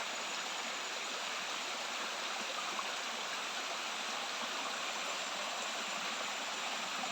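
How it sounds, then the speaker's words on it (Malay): Steady rushing of a stream flowing beneath large rocks near the Tak Abek waterfall, a constant broad hiss and splash that stays even throughout with no voices. "terdapat air yang mengalir."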